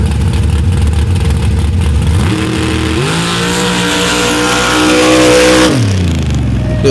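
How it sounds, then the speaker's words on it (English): A Ford-powered Jeep super stock drag car roars down the drag strip at Paducah, loud engine revving then climbing through gear changes in a sustained high-pitched wail before dropping off abruptly at the end. "Here comes the VZ engines powered Repercussion, the only Jeep in the field."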